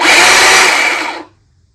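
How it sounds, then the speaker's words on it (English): A cheap electric chainsaw whirs loudly at full speed for about a second, then its motor winds down and stops into silence. "it's an electric chainsaw"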